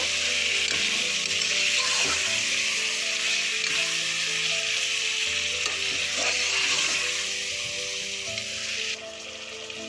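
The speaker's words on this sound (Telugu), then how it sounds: "ఇలా 5 to 10 మినిట్స్ వేపుకుందాం ఆయిల్లో చికెన్ని" Chicken pieces frying in hot oil with a dense, continuous sizzle and crackle, close and loud, with occasional light stirring clatter and no talking.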